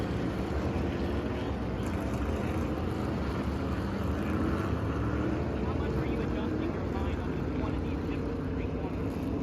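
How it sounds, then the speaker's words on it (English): Stock car engines idling and rolling under caution at Pocono Raceway in a NASCAR racing video game, a dense continuous droning roar at steady loudness with a commentator talking over it. "The cars are fired up and rolling at the tricky triangle."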